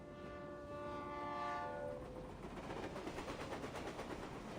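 A passing train in the video game Reverse 1999, with a sustained horn-like tonal sound fading into a steady rhythmic rumble and clatter of cars rolling by, moderately loud and without talk.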